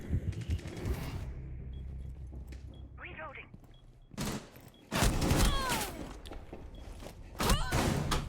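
Rapid gunfire bursts rattle through a Rainbow Six Siege match: loud automatic volleys, close and heavy, break out in several bursts between thuds, footsteps and quieter stretches, while a player talks over much of it.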